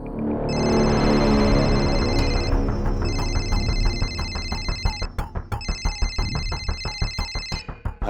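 An electronic phone ringtone sounds inside a house, loud and close, with a bright repeating melodic pattern in three sustained bursts, ending in sharp pulsing beeps, with no one speaking.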